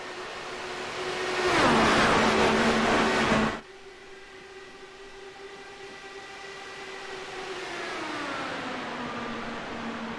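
Pack of IndyCar race cars in the iRacing sim accelerating at the green flag of the St. Jude 300, a loud rising engine roar that peaks early, then sustained whining engine tones continuing as the field pulls away.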